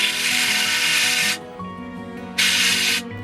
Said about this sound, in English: I'm drilling a pilot hole to stop the timber from splitting when we put the screw in.